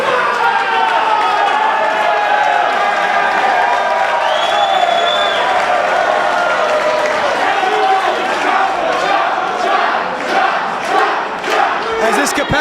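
A capacity crowd at an independent wrestling show roars continuously in a packed brewery venue. Loud sustained cheering and shouting swell with scattered claps and whoops toward the end.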